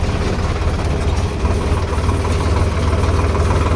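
A tractor engine idles close by with a steady low rumbling throb and vibration, continuous and loud, with no voices.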